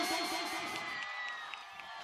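An audience at a live show with a DJ shouts and cheers loudly to vote, a dense, sustained crowd roar that eases slightly toward the end.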